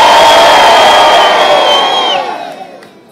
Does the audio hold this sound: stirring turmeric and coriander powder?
no